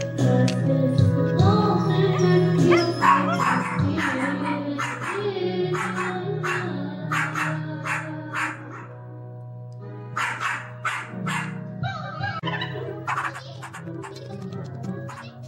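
A dog at a resort barks repeatedly in sharp bursts, some clustered quickly together, over a background of music or humming, fairly close and moderately loud.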